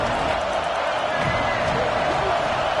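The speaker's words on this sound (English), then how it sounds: "This crowd knows when to bring it." Stadium crowd noise from a Madden football video game, a steady roar of cheering fans that fills the whole stretch at an even level with no pauses.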